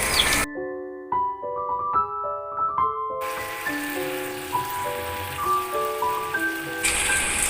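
Steady rain falls on a countryside rainy day, a soft continuous patter running beneath gentle melodic music for the whole stretch.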